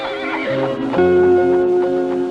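A stunt horse being trained in Australia lets out a loud, sustained whinny lasting a couple of seconds, close and prominent, its pitch wavering and rising before settling into a steady tone.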